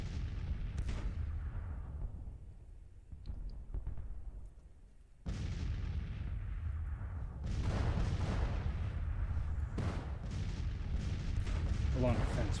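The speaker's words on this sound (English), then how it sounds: "their artillery is still firing at my skirmishers" Artillery in a Civil War strategy game fires in repeated deep booms and sharp blasts, some close and loud, others more distant, with crackling gunfire between them and a voice talking over parts of it.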